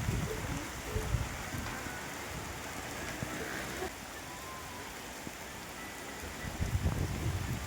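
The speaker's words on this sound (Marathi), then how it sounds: "एकदम मस्त रिमझिम रिमझिम पाऊस आहे बघा" Light drizzling rain patters steadily in the village of Dhadgaon, a soft continuous hiss of fine drops with a few louder low thumps and rustles close by, and no speech over it.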